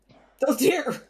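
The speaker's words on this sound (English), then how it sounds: "Big sneeze." A single big sneeze from a person, one sharp, loud burst after a faint breathy lead-in, with a short spoken exclamation around it.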